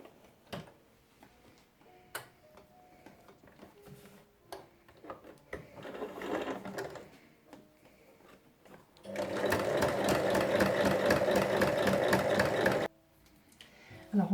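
A sewing machine stitches the folded ties of a reversible apron, a steady rapid run of needle strokes lasting several seconds after quieter handling noises and a short burst of stitching.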